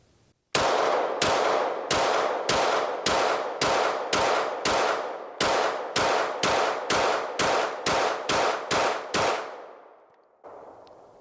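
A ported CZ P-10c pistol fired in a rapid string of about seventeen loud, sharp shots at a steady, even rhythm, each with a short ringing tail, with the reports easing slightly toward the end before a brief quieter rustle.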